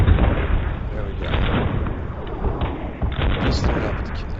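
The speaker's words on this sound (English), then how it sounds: "Just threw it up with the cannons." Rapid cannon fire from combat mechs in the video game M.A.V., repeated booming shots in quick bursts, loud and close, mixed with game effects.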